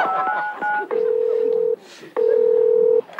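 Cartoon telephone dialing: short repeated tones at the start, then two long steady beeps separated by a gap, clear and close with no talking.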